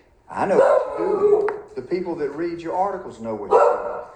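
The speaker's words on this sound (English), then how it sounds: "So I'm sorry for the barking." Rescue puppy dogs, one with keen instincts, bark in a home while someone speaks over them, the yapping mixed under his steady talk.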